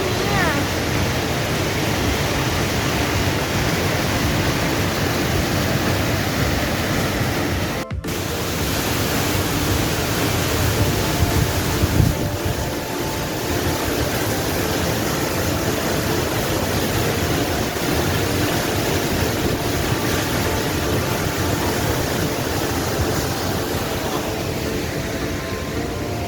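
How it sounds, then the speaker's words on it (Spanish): A strong jet of water pours down along a mill route, a loud, unbroken roaring rush that fills the whole stretch, with voices faintly audible beneath the torrent. "Mira qué chorro cae."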